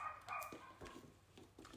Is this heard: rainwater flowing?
no